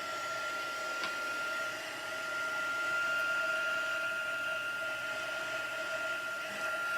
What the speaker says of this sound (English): bring my heat tool in and it will go on setting number 2